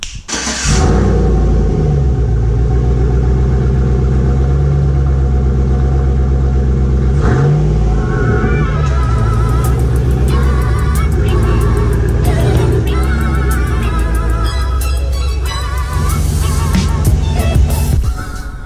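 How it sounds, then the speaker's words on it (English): A Chevrolet Silverado pickup's engine cold-starts with a loud crank and catch, then settles into a steady, strong low rumble that runs throughout, with faint voice-like sounds and rattles layered over the idle. "Get a little cold start right about now."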